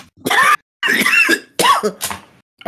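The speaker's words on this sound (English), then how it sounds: "I just coughed up more phlegm." Close, loud coughing in several harsh bursts as someone hacks up phlegm, with throaty clearing between the coughs and no other sound behind them.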